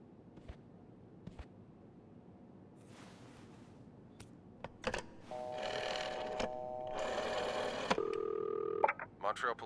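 A telephone at a front desk is dialed in the video game This Bed We Made, a few quiet clicks followed by bursts of steady dial tones and a louder ringing tone near the end, with soft background noise.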